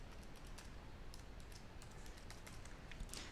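Fingers tap out a password on a computer keyboard at a Windows lock screen, a quick, uneven run of light plastic key clicks, close and fairly quiet, with no voices.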